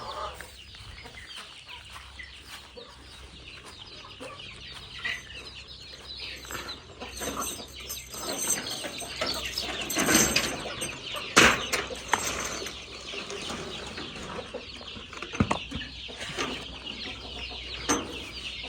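Farmyard chickens cluck and scratch around a rice-field farm, with scattered bursts of wing flapping and some louder squawks midway, moderately close and without speech.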